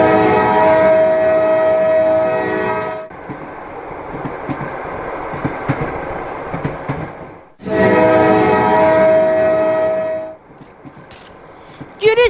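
A train sound effect plays on a comedy show's laughter train: a loud sustained horn blast, then rolling rail noise, then the horn sounds again, followed by a short burst at the end.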